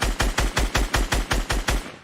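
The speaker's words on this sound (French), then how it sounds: "je lui ai mis une balle" Rapid gunfire in Fortnite: about nine evenly spaced, punchy shots in a steady burst, loud and close, with no talk over them.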